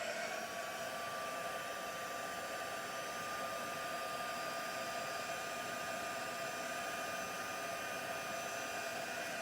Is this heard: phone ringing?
no